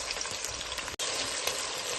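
Mutton and onion sizzling in hot fat in a pan for Kazakh kuyrdak, a steady close crackle that drops out for an instant midway and then resumes at full strength.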